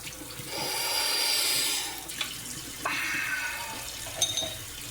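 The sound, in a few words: water running in sink while washing a red spatula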